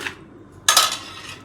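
Marinade poured over chicken pieces in a bowl, heard as a short close splash and clatter against the bowl after a quiet moment, with a brief trickling tail.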